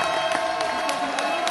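Audience at a fight event applauding both fighters, a dense steady wash of clapping and cheering from a crowd, with a steady tone running underneath.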